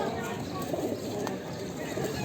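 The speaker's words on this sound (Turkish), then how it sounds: "Mor kafa mardinler." Mardin pigeons coo softly amid a busy outdoor bird market din, with crowd chatter and background noise throughout.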